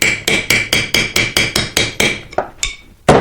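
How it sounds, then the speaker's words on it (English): A hammer taps repeatedly on a rusted screw while a screwdriver tries to turn it: about ten sharp, evenly spaced metallic knocks, close and loud, then a short pause and one more strike. "as I'm tapping the hammer, I'm trying to rotate the screw with the screwdriver, but nothing"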